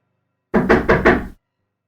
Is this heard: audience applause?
no